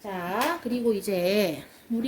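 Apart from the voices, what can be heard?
None of the usual background noises is heard.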